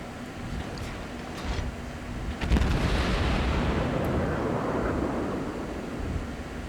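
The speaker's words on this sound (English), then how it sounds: "here comes another broadside. That is a lot of shells" Naval broadside in a sea battle game, a ship's heavy shells booming out with a sharp onset then a rolling, rumbling wash of impacts and splashes over a steady engine and water bed, fairly loud and close.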